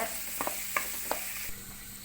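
Dried red chillies and curry leaves are stirred in a pan for snake gourd kootu, giving a few soft, close scrapes over a faint, steady sizzle.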